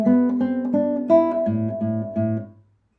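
Beginner classical guitar étude notes played staccato, each note damped right after it is plucked instead of left to ring, in an even, choppy sequence of about eight short notes heard alone and close.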